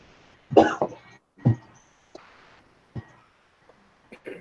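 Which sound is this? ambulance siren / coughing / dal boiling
coughing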